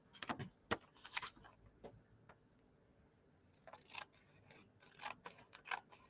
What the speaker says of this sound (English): I'm going to cut it from the fold only to the middle mark over there